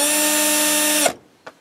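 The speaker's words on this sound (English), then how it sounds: "with your regular cordless drill." Cordless drill spinning to wind wire for a radio choke: a steady high whine running for about a second, then stopping abruptly, followed by a brief faint click.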